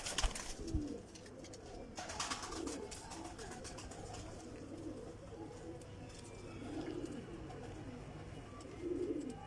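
Teddy pigeons coo in low, repeated throaty phrases throughout, close by, with a faint murmur of background voices and some handling noise at the start.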